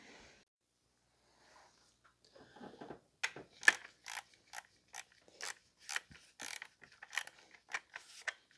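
Hand ratchet clicking in short, rhythmic bursts while tightening engine parts on a 2005 Toyota Corolla during a cylinder 4 misfire repair, starting after a quiet pause, close and crisp.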